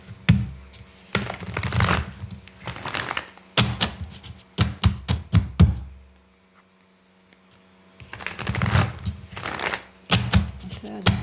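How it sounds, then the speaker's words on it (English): Oracle cards shuffled by hand in several quick bursts of crisp riffling and flicking, close and loud, separated by short pauses and one longer quiet gap, with some light handling taps. "I'm going to pull some oracle cards."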